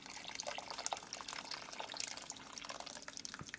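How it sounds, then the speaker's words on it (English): Water running into a pot over chuck roast for beef birria, a quiet continuous pour and trickle with no talking. "You want to make sure you have some water enough to cover your beef"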